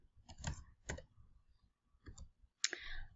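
Mouse clicks while editing a Kahoot quiz on a computer: a handful of crisp, close clicks spaced irregularly over a few seconds, with quiet pauses between them.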